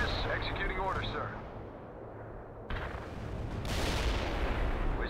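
Artillery pounds away in World in Conflict during a Soviet assault, dense booming fire and rumbling blasts building toward the end, with radio-style unit voices talking over the barrage.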